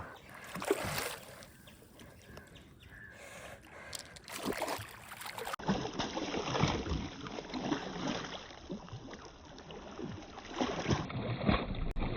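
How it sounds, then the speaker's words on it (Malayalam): Water splashes and gurgles around a wooden fishing boat as oars dip and pull, steady and close, with no voices. "വള്ളം തുഴഞ്ഞ് എടുക്കുന്നു"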